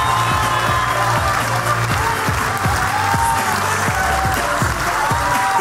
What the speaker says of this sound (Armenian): Բարձր, բարձր, ավելի բարձր ծափ